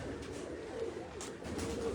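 Piplan pigeons coo on a rooftop loft, soft low rolling calls repeating under steady background noise.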